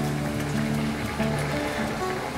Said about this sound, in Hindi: जब भी आप पूड़ी फ्राई करें आपने ये ध्यान देना है कि ऑयल अच्छा गर्म होना चाहिए और हाई फ्लेम पे ही आपने इनको फ्राई करना है